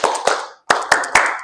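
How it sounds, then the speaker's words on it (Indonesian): Sharp, close handclaps from a group doing a rehearsed 'tepuk mantap' clap routine: several crisp, loud strikes in quick succession, separated by a brief silent gap, with no talking over them. "Tepuk mantap 1 kali"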